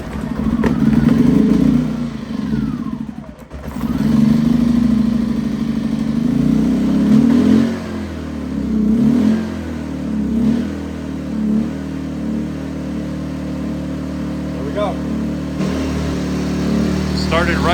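A Champion 2000W inverter generator engine runs steadily after starting, a close mid-pitched drone with a few small surges, and a voice speaks over part of it.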